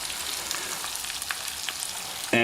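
Beef fat rendering in a pan sizzles steadily with a dense, even crackle of popping fat, close and unbroken, with no voices.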